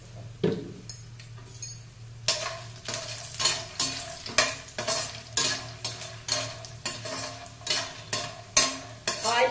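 Food frying in oil in a pan, with repeated stirring strokes scraping and clinking through a steady sizzle, each stir a distinct burst in a regular rhythm, close and fairly loud, with no talking.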